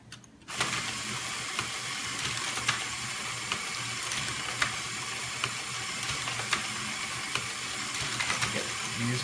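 A running Lego ball factory ball dumper loaded with balls gives off a continuous plastic whirring and clattering of gears, with small regular ticks and knocks spread evenly across the run.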